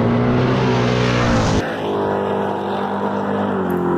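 A Ford Falcon and a Chevy Camaro launch in a drag race, loud engines roaring hard before the pitch abruptly drops as they pull away, leaving a fainter sustained engine drone.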